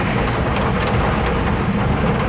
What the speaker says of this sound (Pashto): ډېر تیز باران دی شبه ده.